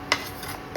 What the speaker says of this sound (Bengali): এবার এই ফোড়নগুলোকে আমি জাস্ট একটু হালকা হাতে নাড়াচাড়া করে নিচ্ছি